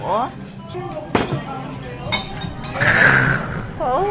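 Draft beer glasses clink together once in a toast at a sushi restaurant, a short bright chink set among lively conversation and table noise.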